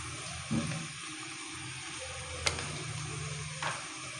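Ginger garlic paste frying with tomatoes in a pan for kadhi pakora, a quiet, low sizzle with a few brief clicks of stirring, no speech.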